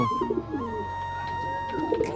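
Domestic pigeons in a loft give soft, throaty coos that repeat near the start and again toward the end, over a faint steady hum.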